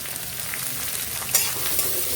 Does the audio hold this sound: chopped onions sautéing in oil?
yes